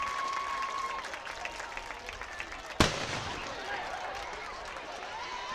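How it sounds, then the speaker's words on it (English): A single sharp cannon blast at a high school football game after a touchdown, one loud boom standing out above the steady crowd noise and cheering of the stadium. "And the cannon roars."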